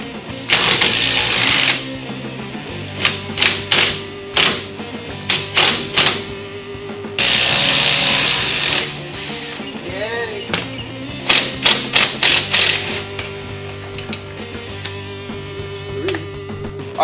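Air impact gun rattling off suspension backing plate bolts during a Mustang suspension teardown, loud hammering bursts of a second or two repeated several times with short gaps, close up.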